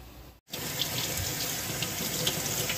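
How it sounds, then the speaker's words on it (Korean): Boiled kalguksu noodles are rinsed in cold water: a tap gushes steadily and close after a brief cut-off, water splashing over the noodles in a sink with no voices. "요 건지기로 건져서 물로 한번 헹구겠습니다"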